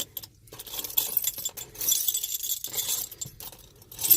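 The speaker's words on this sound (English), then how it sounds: "Fumble with my keys here." A bunch of keys jangles and clinks in bursts as someone fumbles with them beside a 1968 Dodge Charger R/T, close and fairly quiet, with short pauses between the metallic rattles.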